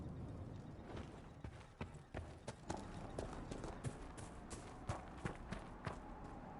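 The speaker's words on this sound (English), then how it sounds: "The chestnut over there is a purebred Ferelden forder. Take care of him, and he'll take care of you" Horse hooves clip-clop from a chestnut purebred Ferelden Forder in the video game Dragon Age Inquisition, a steady run of close hoofbeats over a continuous background ambience.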